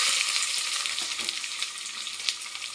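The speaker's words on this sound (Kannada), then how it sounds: "ಈಗ ನಾನು ಈರುಳ್ಳಿ ಹಾಕೋತಾ ಇದ್ದೀನಿ." Onions sizzle steadily in hot oil with spices, a continuous bright frying hiss with faint stirring clicks, close and moderately loud, no talking.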